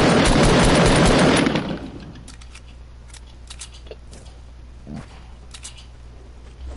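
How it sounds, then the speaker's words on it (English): Sniper rifle shots in the battle royale game Fortnite: a loud dense burst of gunfire at the start, then fainter scattered cracks and clicks over quiet game ambience. "Now we're getting sniped at."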